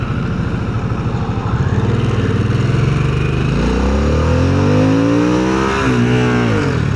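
Harley-Davidson Sportster S motorcycle revving hard and accelerating, its loud engine note climbing through rising pitch sweeps with a gear change partway, close and continuous with no talk.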